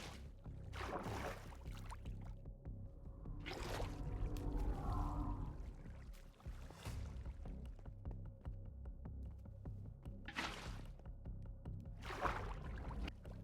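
Water is poured and placed in Minecraft, heard as several soft splashing whooshes spaced a few seconds apart over a low, steady hum.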